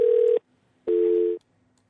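A phone caller on a live call-in broadcast presses keypad buttons, giving two loud, steady touch-tones about half a second each, separated by a short pause over a faint line hum.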